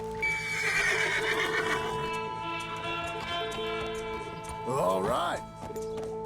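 Horse in Red Dead Redemption 2 gives a loud, close neigh that rises and falls over a game music bed, with hoof clip-clops and a brief spoken word from a person.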